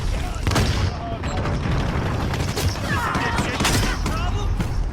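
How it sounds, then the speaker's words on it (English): Gunfire in the Call of Duty Black Ops Cold War video game, a dense, loud stream of overlapping shots and bursts running throughout, with a voice talking over it. "the gun sound nice in this mode"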